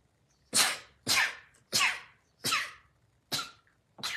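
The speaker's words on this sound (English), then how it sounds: "Excuse me, I'm going to sneeze." A series of six sharp bursts, sneeze-like blasts spaced about half a second apart, close to the listener over a quiet background.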